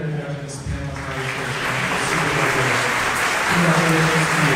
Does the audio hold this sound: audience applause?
yes